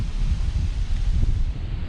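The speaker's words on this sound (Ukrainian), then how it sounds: "Які вітрюганіші." Steady, heavy wind buffeting the microphone at an evening fishing spot, a constant low roar with gusty pulses and no voices.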